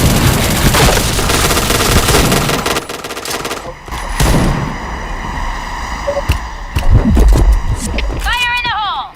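Video game combat with rapid bursts of gunfire and a bomb explosion, loud and dense throughout, while players talk over the action.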